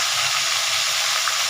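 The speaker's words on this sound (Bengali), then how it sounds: "মাছের মাথাটা একটু ভাজা হোক" A rohu fish head fries in a pan of hot oil, giving a steady, close hiss and crackle that holds unbroken throughout with no voices.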